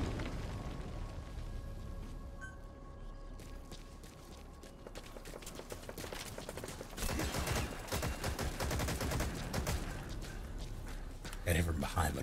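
Video game firefight with bursts of gunfire crackling under steady talking, growing denser and louder in the second half with rapid volleys of shots.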